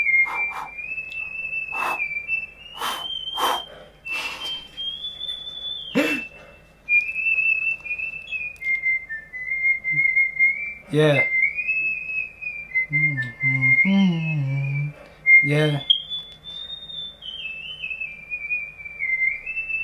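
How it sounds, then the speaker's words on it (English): A person whistles a song in a loud, clear melody of held and sliding notes with short pauses, near and prominent, while another person speaks briefly over it. "I don't know what song he's whistling"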